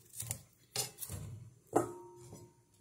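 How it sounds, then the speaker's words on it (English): A knife slices acorn squash rings in half on a cutting board, giving three or four sharp, separate chops and clacks against the board, fairly close and with no talk. "Then we will cut the rings in half."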